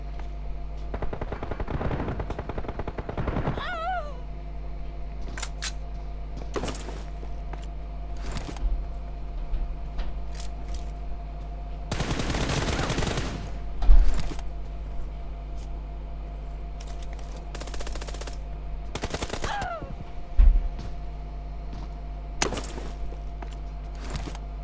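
Bursts of automatic gunfire in a competitive shooter game scrim, several loud rapid volleys spaced across the stretch with quieter single shots between, over a constant low game hum.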